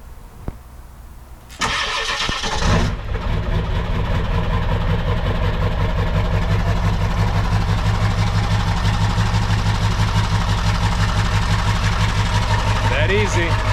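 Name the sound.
Ford 7.3 diesel engine starting and idling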